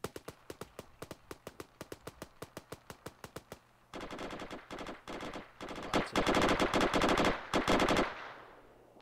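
Rapid gunfire in the Arma 3 military video game during an ambush on an armoured convoy: evenly spaced sharp shots first, then a dense, loud burst of overlapping automatic fire that cuts off near the end.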